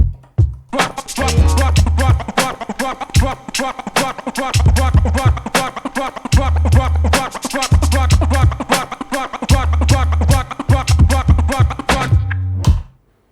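Voice imitating double-time OG flare scratch cuts, rapid stuttering chirps and clicks in quick bursts over a repeating deep kick beat, dense and rhythmic, with no speech.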